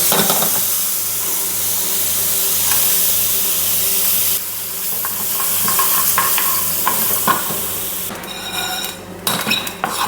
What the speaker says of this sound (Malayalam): അരിമണി പൊട്ടി തുടങ്ങി കേട്ടോ.